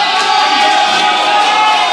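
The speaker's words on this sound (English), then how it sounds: "I'm not actually sure who the crowd is cheering for this one." A dense arena crowd roars steadily at a StarCraft 2 WCS Premier League match between GunGFuBanDa and Jaedong, a continuous wash of cheering with no breaks.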